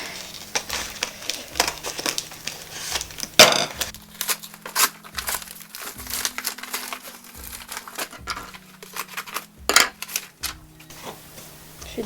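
A dirty, taped paper parcel holding a book being cut and torn open, close crinkling, rustling and crunching paper with sharp scrapes and tears in irregular bursts, no speech.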